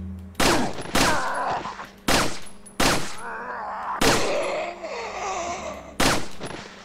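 Pistol gunshots in the Resident Evil 4 video game ring out as six sharp, loud reports at uneven intervals, with game groans and moans filling the gaps between the shots.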